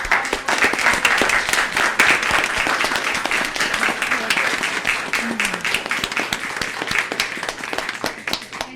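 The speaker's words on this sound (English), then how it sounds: "let's give them a round of applause" At a town board of commissioners meeting, the audience gives a round of applause: close, crisp clapping from a modest crowd, strongest early and gradually thinning, with a voice briefly audible partway through.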